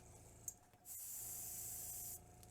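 A steady, fine airbrush spray of pink paint hisses for just over a second after a faint click, then cuts off cleanly.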